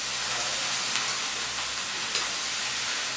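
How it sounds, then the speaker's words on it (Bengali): Vegetables frying in a pan for a Bengali fish curry (Piyali macher chochchori), giving a steady, close, continuous sizzle and hiss with faint crackles and no talking. "খুব ভালো করে ভেজে নেব যাতে সবজিগুলো সেদ্ধ হয়ে যায়।"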